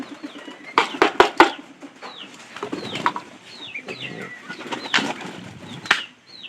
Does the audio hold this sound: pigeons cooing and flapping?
yes